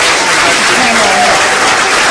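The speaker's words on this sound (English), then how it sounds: "Everybody, give Bobby a round of applause." Steady applause from a large audience fills the whole moment, loud and continuous, with a faint voice briefly rising underneath.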